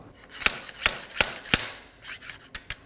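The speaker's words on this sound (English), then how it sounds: "Place the slide hammer on the edge of the axle and strike it off." A slide hammer knocks a CV axle loose on a 2015-2023 Nissan Maxima 3.5L V6, giving four sharp metallic strikes at a steady pace, then a few lighter taps and scraping, close and fairly quiet, with no talk.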